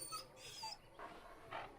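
A dog whimpering in the video game Dragon Age Origins, several soft high whines in quick succession, faint and close, with no one speaking.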